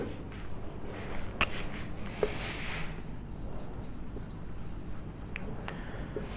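Chalk or marker scratches faintly across a board as complex-function formulas on inverse hyperbolic tangents are written during a math lecture, short strokes over a steady room hiss with light shuffling.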